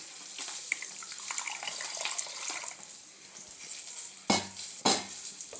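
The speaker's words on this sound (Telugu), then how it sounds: "కొంచెం వాటర్ యాడ్ చేయాలి" Water trickles and splashes into a thick batter for majjiga pulusu amid soft stirring, with two sharp knocks near the end.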